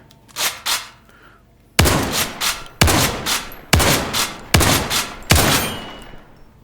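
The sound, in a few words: shotgun firing in video game Zero Caliber VR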